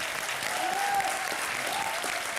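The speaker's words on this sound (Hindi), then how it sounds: "खैर लेकिन जितने मीडिया वाले हैं इनके लिए जोरदार तालियां हो जाए।" An audience on a televised comedy roast show claps steadily in a brief, even burst of applause lasting a couple of seconds, with a faint voice rising under it.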